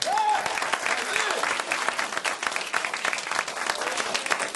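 An audience at a live spoken performance gives a round of applause, a steady, moderately loud burst of clapping that lasts throughout.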